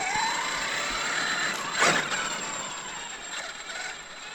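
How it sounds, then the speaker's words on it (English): Metallic Vitavon 1.5 mod gears whir in a Traxxas X-Maxx 8S RC truck running on a road, giving a steady, close, jingly mechanical whine with a brief louder swell partway through. "Definitely makes a very metallic, like jingly noise with these type of gears."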